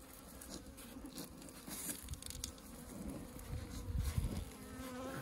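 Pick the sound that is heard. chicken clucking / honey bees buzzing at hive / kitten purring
honey bees buzzing at hive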